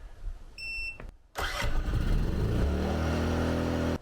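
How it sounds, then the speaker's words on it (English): Portable smart generator started by push button: short electronic beeps, a brief pause, then the engine cranks and catches, settling into a steady, close mid-pitched running hum. "There are numerous ways to start this generator."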